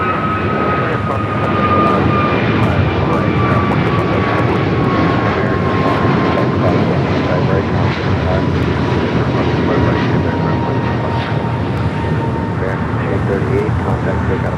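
Aircraft engines roar steadily and loudly at Los Angeles LAX airport, a continuous jet drone with a faint whine, under occasional radio chatter from air traffic control.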